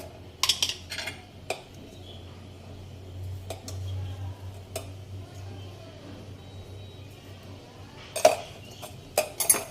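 Onion paste being mixed with spices in a bowl, with scattered clinks and scrapes of a utensil against the dish over a low steady background hum, clustered near the start and end.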